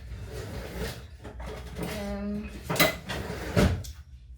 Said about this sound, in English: let me get a sharp knife